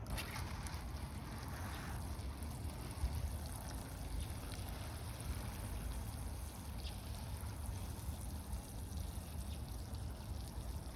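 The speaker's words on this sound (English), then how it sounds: "let's get some water on here" Water pours steadily onto fresh soil in the pot of a frost-damaged tropical avocado bonsai, a continuous close splashing trickle for the whole stretch with no talking.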